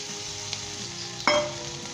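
Potatoes frying in a pan for okra curry give a steady, close sizzle, with a light stir around the half-second mark and a louder scrape and crackle near the end.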